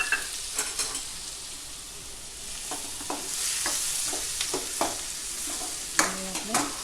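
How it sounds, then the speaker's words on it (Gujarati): Finely chopped onion and half a piece of star anise, with red chillies, fry in hot oil, a steady sizzle broken by repeated scraping stirs, close and moderately loud with no voices. "અડધો બાદિયાનો ટુકડો લીધો છે એ નાખશું અને ડુંગળી ઝીણી સમારેલી નાખશું।"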